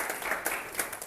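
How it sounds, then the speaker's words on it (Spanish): A class applauds to welcome a new classmate from computing, several hands clapping in a dense, moderately loud patter without speech. "un aplauso para el compañero de informática"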